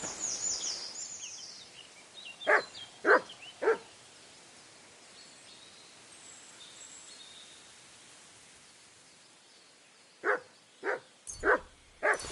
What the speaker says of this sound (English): Good dog, Mutt. Show me.